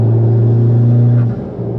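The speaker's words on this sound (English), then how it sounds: "that's a couple of wide open throttle pulls onto the motorway" Mitsubishi Evo X on E85 fuel at wide open throttle on a motorway pull, a loud, close, deep engine roar that holds steady and then drops off suddenly near the end.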